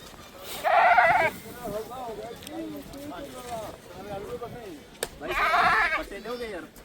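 A male goat bleats loudly twice, close by, with a murmur of talking voices in between.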